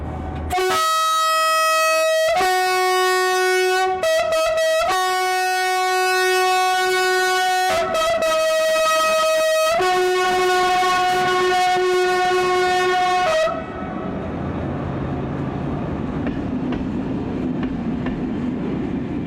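A night train's horn blasts in several long, loud, steady tones with short breaks, then gives way to the rumbling roar of the train passing close by.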